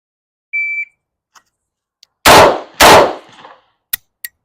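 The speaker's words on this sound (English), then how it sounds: "Okay, shoot that one again. 2 to the chest." Two loud handgun shots fired at a target in close succession at near range, preceded by a short electronic shot-timer beep and followed by faint clicks.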